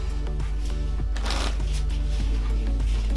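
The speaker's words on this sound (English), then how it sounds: "that, my friends, is the tabled riffle shuffle" Playing cards are riffle shuffled on a table, with a rapid fluttering burst of cards interleaving in the middle, framed by soft taps and clicks as the deck is squared and pushed back together.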